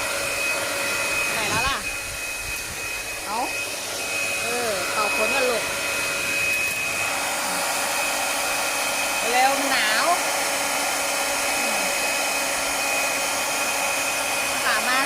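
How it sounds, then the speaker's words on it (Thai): A hair dryer blows steadily and loudly throughout, drying hair after a bath, with faint voices talking now and then beneath the constant airflow. "แม่ต้องมาเป่าผมอันนี้"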